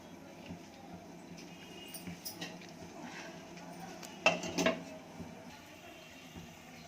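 Sugar being stirred into a pot for kesari bath, with soft scraping and a few brief metallic clinks of a spoon against the pot, one sharper knock near the end, over low kitchen background.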